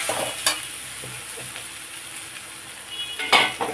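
Vegetables are stir-fried with radhuni spice in a pan, giving a soft steady sizzle broken by several sharp spatula scrapes and knocks against the pan, up close.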